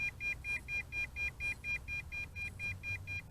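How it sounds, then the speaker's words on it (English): An MJX Bugs 5W GPS drone's handheld remote control beeps at its range limit, a quiet, evenly spaced series of short electronic beeps, about three per second, repeating alone without talk. "right before the bifurcation, that it starts to beep away"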